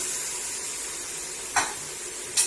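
Masala frying in a pan with salt and yogurt for maash daal: a steady, even sizzle and hiss throughout, with two brief louder splattering bursts near the end, no talking.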